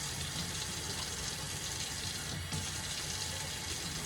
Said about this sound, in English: I'm actually going to pour it over the sink